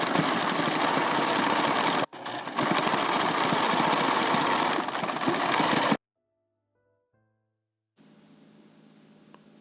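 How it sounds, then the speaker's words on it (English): A sewing machine stitches bias tape onto a seam at a quarter inch, a close, rapid whirring run with a brief pause, then a fresh burst before it goes quiet. "I'm going to stitch at 1/4 of an inch"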